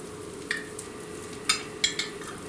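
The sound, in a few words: chicken bacon chaffle mixture sizzling in chaffle maker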